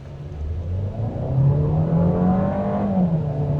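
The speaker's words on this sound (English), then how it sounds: "It does make noise, of course, it's an engine, right?" 2026 Volkswagen Taos SE engine pulling away from a full stop, a mid-pitched hum that rises steadily as the car gains speed, heard from inside the cabin with no talking.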